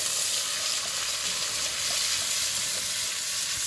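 Leek greens go into a pan of frying onions, raising a dense, even sizzle that holds steady and close, with faint stirring and no voices.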